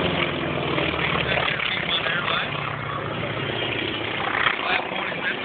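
A DC-3 propeller airliner taxis around a large ramp at the Keesler air show, its steady, loud engine drone continuing throughout while a voice talks over it.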